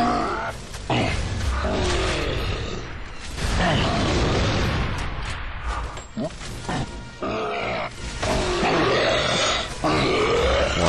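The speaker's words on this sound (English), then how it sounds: "And just blind fire grenades in there." Blind-fired grenades burst in Gears of War, Nightfall's Last Stand, as heavy broadband blasts and rumbling mechanical clatter, loud and close, under steady talk and grunting throughout.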